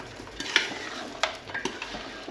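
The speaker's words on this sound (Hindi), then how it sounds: "तो अब इसमें दही मिक्स कर दिया है, इसको फिर से धीमी आंच पर भूनेंगे ताकि दही इसमें मिक्स हो जाए" Yogurt being stirred into a spicy curry in a pan, with a few soft scrapes and clinks of a spoon against the pan over a low background hiss.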